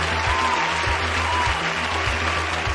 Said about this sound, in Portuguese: eu apresento o convidado e eu boto um aplauso